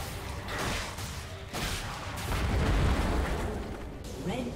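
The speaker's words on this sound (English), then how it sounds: "Red team's inhibitor has been destroyed." An inhibitor destroyed in League of Legends: a series of heavy booming explosions and crackling bursts layered over game effects, loud and dense, with swells of impact noise.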